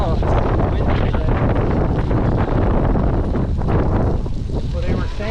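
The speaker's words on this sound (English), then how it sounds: "oh, it's windy today" Strong wind buffeting the microphone on an outdoor bike trail, a loud continuous roaring rumble with gusty swells and no pause throughout.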